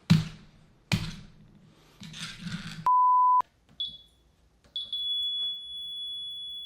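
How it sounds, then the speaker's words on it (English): A few sharp clunks, then a flat electronic tone, followed by a high-pitched beep that turns into a continuous sustained tone. "Continuous beeping."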